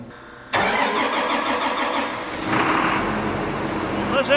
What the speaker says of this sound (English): Let's add just a little bit of air in that engine. Start it up now.